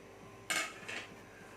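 Two quick metallic scrapes of a spoon stirring prawn biryani in a pot, close and fairly loud against a quiet background, the second softer than the first.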